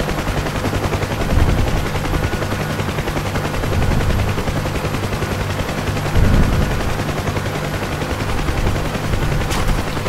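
Incoming gunfire and cannon rounds in a combat flight game air strike, a steady dense rattle under a constant engine drone, with heavier bursts swelling now and then and no speech.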